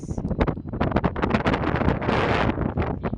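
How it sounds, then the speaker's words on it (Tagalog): Strong wind buffets the microphone in loud, continuous gusts, a rough roaring rush with no voices. "Lakas ang hangin oh."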